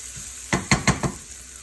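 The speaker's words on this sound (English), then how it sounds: "you kind of want to fry the noodles just a little bit" Noodles fry in hot oil in a pan for shrimp and chicken lo mein, a steady close sizzle broken by several quick stirring scrapes and clinks.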